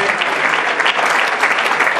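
Sustained audience applause fills an awards gala hall, a dense, steady wash of clapping from a large crowd that holds at full level for the whole stretch with no voices standing out.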